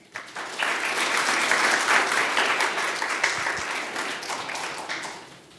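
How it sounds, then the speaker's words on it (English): An audience at a student business society investing talk breaks into warm applause for Professor Nolan Altman, building quickly from silence into a full, sustained wash of clapping that tapers slightly toward the end. "let's give a nice round hand of applause to Professor Nolan Altman"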